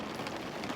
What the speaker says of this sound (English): I just can't get out in this rain. I haven't got a waterproof jacket on, and it is absolutely pouring it down.